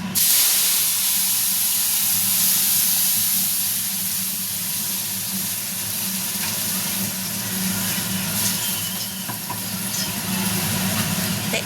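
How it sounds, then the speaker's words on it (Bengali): Ginger, tomato and green chili paste frying in hot mustard oil for a vegetarian aloo dum, giving a steady hissing sizzle that starts loud and settles to a constant spitting crackle, near and without speech. "এরপরে আমি এই আদা, টমেটো আর কাঁচা লঙ্কার পেস্টটা দিয়ে দেবো"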